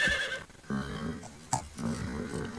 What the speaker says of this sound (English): Yep, just a horse.